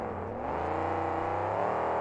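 Monster trucks race on a track, their engines droning and revving in a continuous rising whine with shifting tones as they accelerate, loud and steady with no talk.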